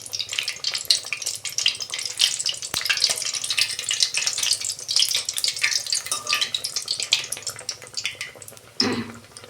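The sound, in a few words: malpua batter frying in oil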